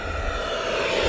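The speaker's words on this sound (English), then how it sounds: "So we're going to do a full throttle pass down the runway." An FMS F-86 Sabre 80mm electric ducted fan RC jet makes a full-throttle pass down a runway, a steady loud turbine-like whine and rushing roar holding throughout.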